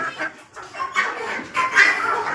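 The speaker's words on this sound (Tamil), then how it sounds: "கோழிகள் எப்படி விரும்பி சாப்பிடுன்னு பாருங்கள் சண்டை போட்டு தான் சாப்பிடும்" Free-range country chickens cluck and squabble while eagerly pecking at scraps of fish, a close, busy cluster of short irregular clucks and squawks rising and falling over a few seconds.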